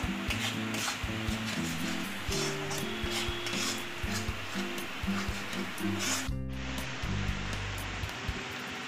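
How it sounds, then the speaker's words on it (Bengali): Spices for egg korma frying in oil while being stirred, a close, continuous sizzle with rubbing and scraping strokes, plus a rhythmic low tonal hum running underneath, and no talk. "দিয়ে সব মশলা খুব ভালোভাবে কষিয়ে নেব।"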